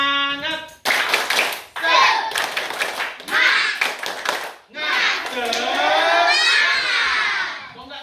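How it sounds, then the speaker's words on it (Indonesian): Schoolchildren in a combined-grade class chant and clap a rhythmic cheer, bursts of hand claps and young voices alternating in a loud, lively pattern, with a teacher's voice leading in between. "mari kita tepuk semangat"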